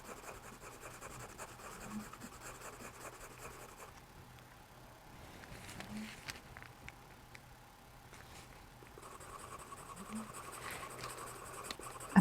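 Charcoal pencil drawing on paper, adding highlights to a bear's paws, with soft, steady scratchy strokes in short bursts, fairly faint and close with brief pauses between passes.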